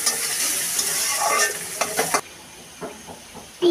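Onions drop into hot oil in a wok with a loud, steady frying sizzle and a few spatula knocks, then the hiss cuts out abruptly and quieter scrapes and clatters follow.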